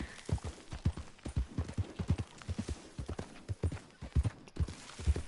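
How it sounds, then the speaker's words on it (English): Horse galloping in Red Dead Redemption 2, rapid, loud, close hoofbeats in an even rhythm throughout. "Actually, nope, that was a horse."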